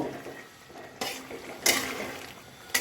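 Cauliflower curry being stirred in a pan with ghee and garam masala: a few distinct metal scrapes and clinks of a spoon against the pan, spaced apart, over a faint low background.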